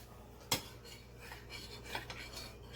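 A utensil clinks once against a bowl while mixing a zesty addition into coating for air fryer chicken strips, followed by soft, scattered scraping and tapping, close and fairly quiet.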